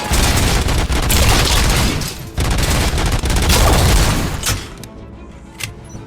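Heavy gunfire in RoboCop: Rogue City, a loud, dense, continuous barrage of overlapping shots and booms for several seconds that then thins to a few scattered blasts over quieter game background.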